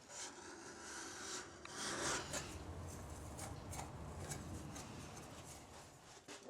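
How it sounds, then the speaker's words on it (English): A steel card scraper's edge is jointed with a file, giving a steady series of close, rasping file strokes along the metal edge, heard alone in a quiet room. "Start by jointing the edge of the card scraper with a file until you can feel a burr across the entire edge of the card scraper."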